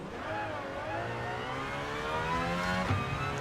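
Aston Martin Valkyrie engine in Gran Turismo 7 revving hard, its rising harmonic whine climbing steadily before a sharp gear change near the end, loud and continuous with a faint mechanical whir.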